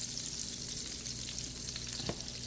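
Half a stick of butter melts into olive oil in a pan over low heat, giving a steady, close sizzle with a faint clink near the end.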